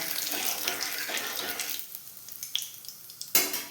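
Cumin seeds frying in hot oil crackle and hiss loudly at first, then settle into fainter, scattered pops with one sharp burst near the end.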